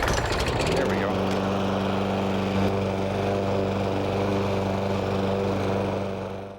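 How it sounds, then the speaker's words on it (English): After a short rattle of the pull cord, a pull-start lawn mower engine catches and runs at a loud, steady close drone that carries on to the end, with no talk over it. "So I am the battery here for this particular mower, and give it a pull or two."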